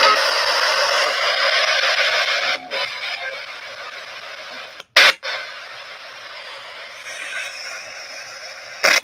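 Spirit box radio sweeping through static, giving a steady wash of hiss broken by a few abrupt gaps and short bursts, loud and close with no voices.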